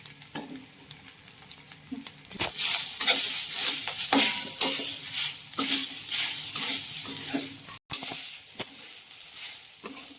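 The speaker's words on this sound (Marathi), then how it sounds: "थोडस तूप टाकून चांगलं भाजून घेणार आहे" Food being roasted in freshly made ghee in a pan, starting quiet and then bursting into steady sizzling frying with repeated scraping stirs, fairly close, with no talking.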